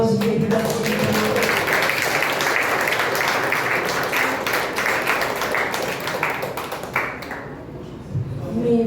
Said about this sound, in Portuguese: Dê um aplauso, querida.